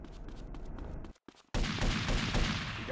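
Gunfire in the video game GTA Vice City: a quick run of sharp shots, a short gap, then a louder dense volley of shots and impacts close by.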